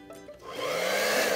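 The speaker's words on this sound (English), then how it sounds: "you can try using a blow dryer in between to try to speed up the process" A blow dryer starts up and quickly settles into a steady, loud whooshing roar that continues to the end.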